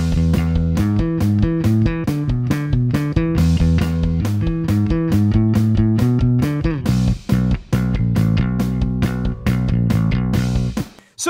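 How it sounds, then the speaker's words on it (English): Electric bass riff on E, played as a driving, evenly repeated run of punchy plucked notes, loud and steady with a brief break near the end, no talking. "We have this cool riff on E that sounds like this."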